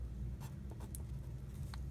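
A pen scratches across paper while a chemistry formula is written by hand, making faint, soft strokes and light taps, close by over a low steady hum.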